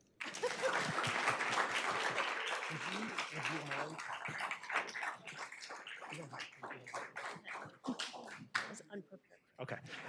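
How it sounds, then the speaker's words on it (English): Audience applause at a school board meeting honoring a student champion, a burst of clapping that starts loud and tapers into scattered claps, with voices talking over it. "Okay, now clap."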